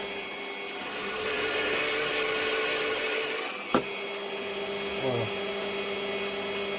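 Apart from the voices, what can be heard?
drill press used for crimping shotgun slug cartridges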